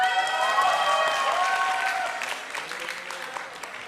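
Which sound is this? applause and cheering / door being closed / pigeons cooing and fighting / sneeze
applause and cheering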